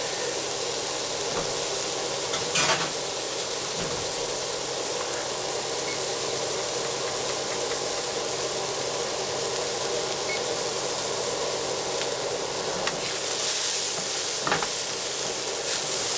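Mushrooms sautéing in butter in a hot pan, a loud, even, hissing sizzle that holds steady for a long stretch, with a few stirring knocks and no talking.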